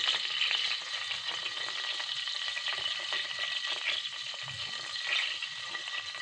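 Popcorn kernels frying in plenty of melted ghee in a pan, a steady close bubbling sizzle lasting the whole time with no voices.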